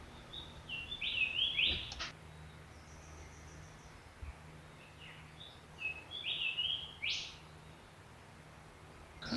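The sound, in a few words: birds singing in rainforest, Springbrook National Park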